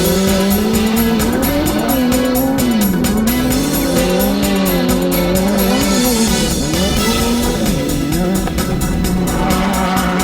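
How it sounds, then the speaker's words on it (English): Ducati 1098 superbike starting a race at Heartland Park in Topeka, Kansas: engines scream loud and continuous as several bikes rev and shift together, pitches rising and falling while the pack surges toward the first turn. "On his foremost insurance Ducati 1098, Larry got away clean with the leaders headed to turn 1."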